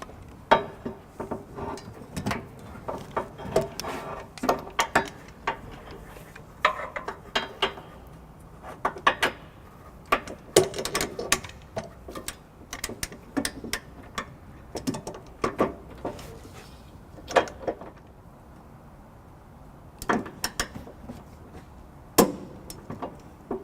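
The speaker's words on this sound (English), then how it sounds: "we're going to go ahead and torque all the bolts down to the manufacturer's specs" A ratchet with a 6-inch swivel extension and 11/16 socket tightens trailer hitch bolts under a 2014 Subaru Crosstrek: close, irregular metallic clicks, clanks and taps in quick bursts across the whole stretch, with no talking.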